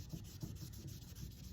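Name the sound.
sanding a brass hickory putter with 2000 grit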